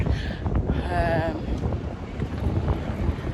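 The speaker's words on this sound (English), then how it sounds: "It can be warm and sunny, but it's so windy. It is so windy." Strong wind roaring and buffeting against the microphone, loud and constant throughout, with no voices.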